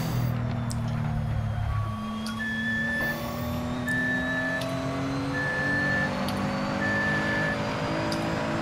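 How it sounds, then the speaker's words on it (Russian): Evenly spaced electronic beeps from a microwave oven finishing, four short tones a little over a second apart, heard faintly over a steady engine drone from a racing game. "У кого там микроволновка приготовила все?"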